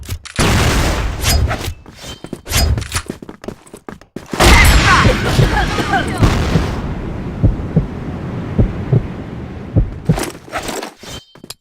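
A flash bomb bursts amid rapid gunfire in a shooting video game, with loud booms and sharp shots arriving in clustered volleys separated by brief near-silent gaps.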